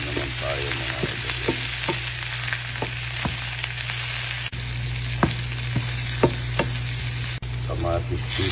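Garlic, onion and ginger sautéed together in a wok for camaro: a loud, steady sizzle close by, with sharp clicks and scrapes of stirring throughout and no voices.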